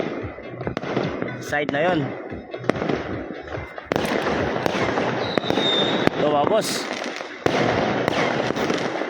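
Firecrackers and fireworks go off during a Lunar New Year celebration in Vietnam, with loud crackling bursts, sharp bangs and whistling rockets. Someone talks over the din nearby.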